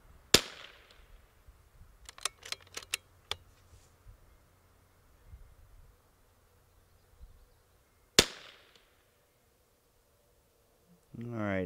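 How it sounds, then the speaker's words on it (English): Rimfire rifle shots from a Bergara B14R and a CZ 457, fired at paper targets from a bench: two sharp, isolated cracks several seconds apart, with faint clicks and quiet handling noises between them. "we're going to shoot a couple real quick on paper"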